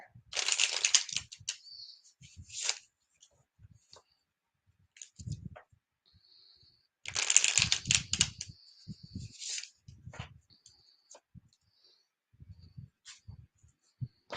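Tarot cards are shuffled in quick crisp riffling bursts, with soft taps and handling noises between them in a quiet room.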